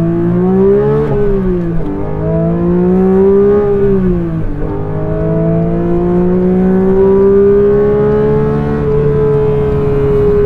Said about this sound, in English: the way that the car sort of like shuddered back down as I got off the throttle